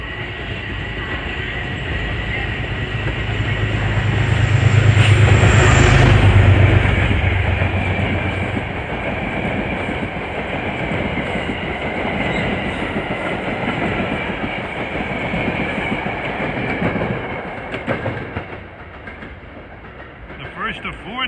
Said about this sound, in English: Well, here comes 1848 from Grand Central to Danbury.